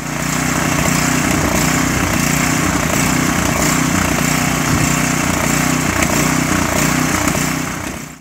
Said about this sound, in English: you can hear that the engine was revving up and down